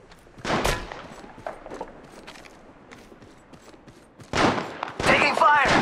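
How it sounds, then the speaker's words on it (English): Gunfire in the Apex Legends video game comes in scattered rapid bursts, some distant and faint, with louder close volleys near the end, and character voice lines spoken in between. "They're shooting at me."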